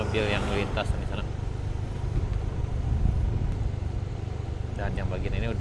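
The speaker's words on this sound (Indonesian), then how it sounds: "Banyak mobil yang melintas di sana." Cars and motorbikes pass along the Pessel–Solok road on a busy weekend, a steady low engine rumble and road noise under a voice.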